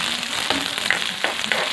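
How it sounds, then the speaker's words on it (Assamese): Chopped onions fry in a hot pan for a pork dish, hissing with a steady, close sizzle. Periodic scraping and stirring strokes break through the crackle. "পিঁয়াজখিনি দি অলপ লৰাই দিব লাগিব।"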